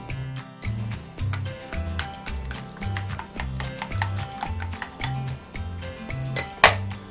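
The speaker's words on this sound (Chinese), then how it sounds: "把鸡蛋拌匀" Eggs are beaten in a bowl with added seasonings for a Taiwanese preserved-radish omelette. A utensil taps the bowl in a fast, steady rhythm of close clinks, with a couple of sharper knocks at the end and no talking.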